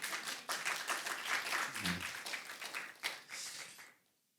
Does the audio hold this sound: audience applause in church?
yes